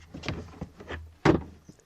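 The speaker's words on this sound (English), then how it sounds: "you can pull this drawer out because inside it's got the urine separator" The plastic drawer of an OGO compost toilet slides out with a few scraping and clunking sounds, ending in a sharper knock, close up and without speech.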